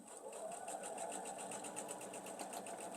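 A sewing machine stitches pieces of a quilt block in a chain, a fast, even run of close mechanical clicks that stays steady throughout.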